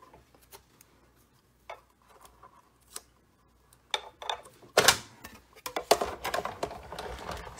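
Stampin' Up! floral and foliage frame dies are handled and paper is die cut, a run of sharp clicks and taps, sparse at first and then denser crunching snaps near the end.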